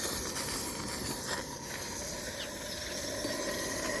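A steady, hissing wash of steam from a Beck Helene model steam locomotive running under open steam, continuous and fairly faint, with a faint rhythmic chuff beneath and no talking.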